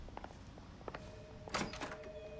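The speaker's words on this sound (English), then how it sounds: "Door's unlocked." A door opening in the detective video game L.A. Noire: a few soft clicks and knocks, then a louder thunk with a brief rattle as it swings, fairly close, with no talk.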